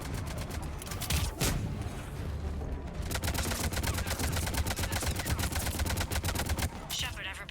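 Rapid automatic gunfire from Mass Effect 3 rattles almost continuously in dense bursts, with a short pause before a long sustained stretch of fire, loud and close.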